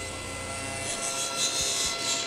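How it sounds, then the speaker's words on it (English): Table saw ripping the last edge of a wooden board, a steady close whine with a rough cutting hiss through the short span, no talk. "I'm just going to clean up the last side over the table saw."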